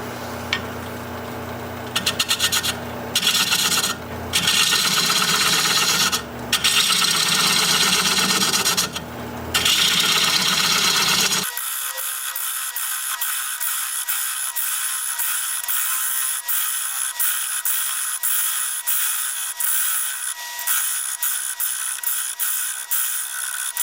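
A 5/8-inch bowl gouge hollows end-grain buckeye on a wood lathe turning at 480 RPM in a cold shop, giving a steady, loud rasping cut that comes in bursts at first and then settles into a continuous hiss.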